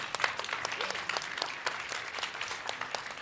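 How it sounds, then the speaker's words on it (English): Applause from an audience at a Mercedes-Benz press conference at CES, a fairly faint, even crackle of many hands clapping continuously over a few seconds, without talk. "A big round of applause for Marcus Schaefer."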